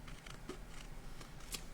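Scissors cutting a banner shape out of an MDF panel's mixed-media surface, a few short crisp snips close by, with no talk.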